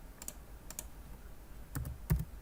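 Quiet computer keyboard typing of a short command shortcut: a few sparse key clicks in small pairs, then a couple of firmer, louder taps near the end, close and alone.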